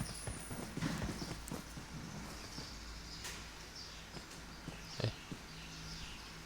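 Footsteps in the battle-royale game PUBG, a quiet run of soft, irregular steps over low game ambience, with a couple of slightly sharper impacts partway through; no one speaks.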